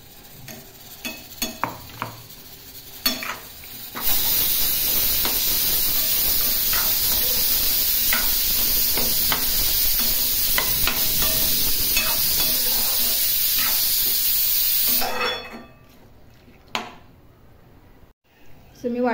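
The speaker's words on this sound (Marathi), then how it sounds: "तर झाकण मारून थोडी एक वाफ काढते त्या वाटपाबरोबरच आहे." Masala paste cooking in a covered pan at home gives off a steady loud hiss of steam for about eleven seconds, with stirring clatter before and after and a voice talking over parts of it.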